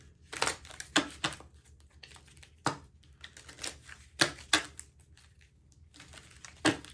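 Tarot cards are shuffled in irregular bursts of crisp riffling and flicking, close and fairly quiet, with short pauses between the rustles and no talk.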